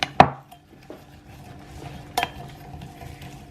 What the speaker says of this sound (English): Now we're going to stir it all in together.